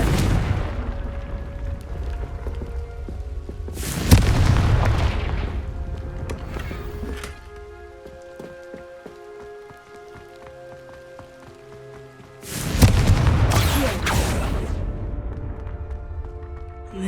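Explosions from a Confringo spell in Hogwarts Legacy sound as two loud blasts some eight seconds apart. Each has a booming crackling burst that fades into rumbling debris, with quieter game ambience and tones in between.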